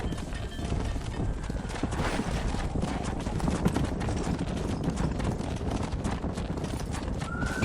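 Horse hooves gallop in Red Dead Redemption, a fast continuous clip-clop rhythm with a whinny near the end, heard over outdoor game ambience.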